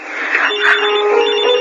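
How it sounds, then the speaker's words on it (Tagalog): A cellphone rings with a steady electronic tone, loud and close, playing alone for under two seconds with no voices. "May napatawag sa cellphone ko."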